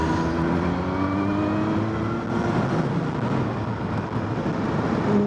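A car driving along a city street, a steady low engine drone with rising tonal whine as it accelerates, continuous and close, no talking.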